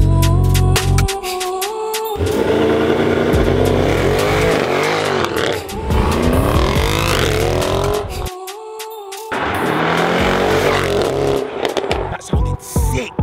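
A Mercedes GT63S V8 revving hard in race mode, loud repeated blips and sustained roaring revs with sharp cutoffs and a brief silent gap, up close.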